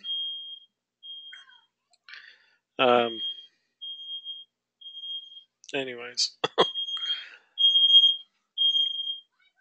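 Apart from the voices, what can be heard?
smoke alarm beeping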